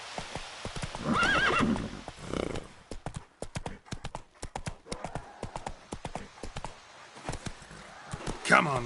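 Roach, a horse in The Witcher 3, trots with steady clip-clop hoofbeats and gives a couple of loud whinnies near the start and end, with a voice talking briefly over the hooves.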